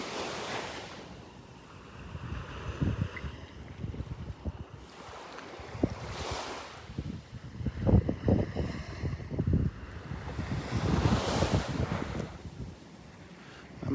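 Ocean surf rolling onto Vanderbilt Beach in Naples, with wind buffeting the microphone; waves break and wash in repeated surges every few seconds at moderate volume, steady wind rumble underneath, no voices.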